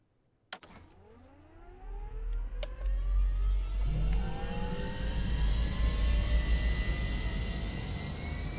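A video game aircraft set up as an AC-130 gunship in Nuclear Option throttles up from idle. After a sharp click, a deep engine roar builds with rising, sweeping whine tones and then holds a loud, steady drone, close and alone.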